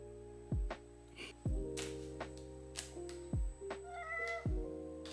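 Cat meowing up close, four drawn-out insistent meows spaced about a second apart, loud and clear with small rustles between them.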